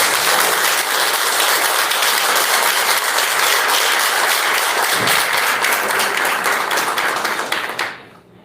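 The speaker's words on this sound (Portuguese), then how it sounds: "Vamos aplaudir a palavra de Deus." A church congregation breaks into loud, dense applause, many hands clapping steadily for several seconds before the sound thins and fades out at the end.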